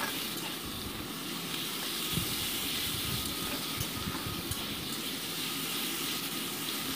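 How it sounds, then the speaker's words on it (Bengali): Prawns frying in hot mustard oil in a wok, giving a steady, dense sizzle and hiss that stays loud and even throughout, with no talking over it. "কড়াইতে সর্ষের তেল গরম বসিয়ে আমি চিংড়ি মাছগুলোকে ভালো করে ভেজে নিচ্ছি"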